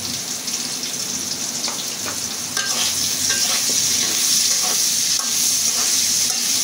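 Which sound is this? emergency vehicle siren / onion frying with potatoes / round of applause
onion frying with potatoes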